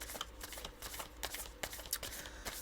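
Tarot cards are shuffled by hand up close, a dense run of quick papery riffles and taps that keeps going steadily throughout.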